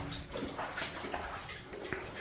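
Cold water drains out inside an old underwater tunnel, a faint splashing trickle with scattered drips and small gurgles, close by and fairly quiet.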